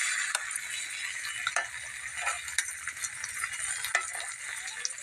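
Garlic and ground chili paste sauté in a pan, giving a bright, crackling sizzle with intermittent scrapes and taps of a spatula, close up and without speech.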